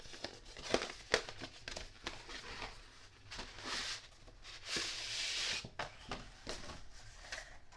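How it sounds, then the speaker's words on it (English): A glued paper card wrapper being torn open by hand, heard as close, irregular crinkling and ripping bursts, some short and sharp, one longer tear near the middle, with no talking. "I hate to tear my wrapper."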